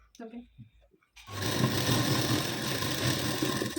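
A sewing machine runs continuously and close by while stitching a blouse lining, a steady, even mechanical hum with fast rhythmic needle ticking, after brief speech at the start.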